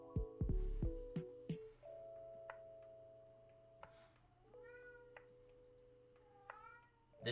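A pet cat keeps whining and meowing nearby, with a few short cries early on and then quieter tones while a light steady ticking plays underneath.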